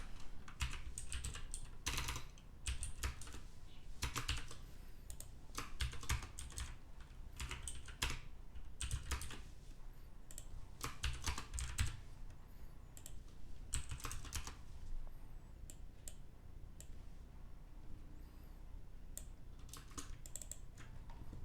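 Steady computer keyboard typing with mouse clicks, quiet, close and continuous, in irregular bursts of keystrokes with short pauses, no voices.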